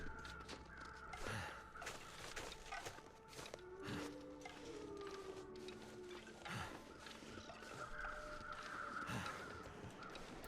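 Crows caw repeatedly in the snowy wilderness of The Long Dark, harsh calls repeating at irregular intervals, fairly close and clear over soft crunching footsteps and faint ambient noise.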